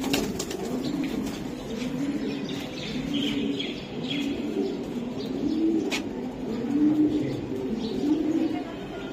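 Pigeons of an old racing high-flyer line coo softly and repeatedly in a steady, rolling rhythm close by at a loft in Bangladesh, with faint chirps and a light murmur of voices behind.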